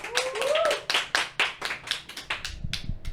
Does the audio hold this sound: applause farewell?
yes